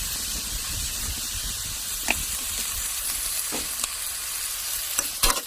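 Pork belly and pineapple stir-fried in a pan, a loud continuous sizzle and hiss with occasional scraping stirs and clanks near the end, no talking.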